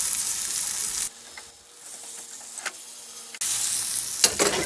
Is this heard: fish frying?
yes